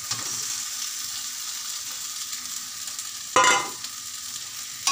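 Paneer, potato and masala curry frying and being stirred in a pan, a steady sizzle running throughout with a sharp louder scrape of stirring partway through.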